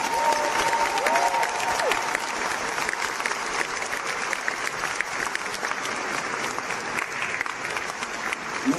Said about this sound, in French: on peut leur faire un tonnerre d'applaudissements